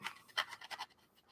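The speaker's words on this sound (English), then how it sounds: "I'm just taking a pizza cutter to a slice of cheese" A pizza cutter rolls through a slice of cheese while Halloween pizza is being made: a few short, soft scraping strokes, faint and close, with no voices.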